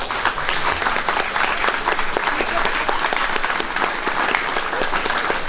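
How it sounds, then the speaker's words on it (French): Crowd applauding at a cycling championship podium ceremony in Marolles-les-Brûlots, Sarthe, a loud, close, sustained wash of clapping from many hands. "On peut les applaudir très très fort."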